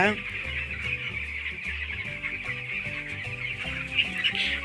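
Continuous close clucking from many broiler chickens inside a farm shed, a busy overlapping chorus of short calls with no clear talk over it.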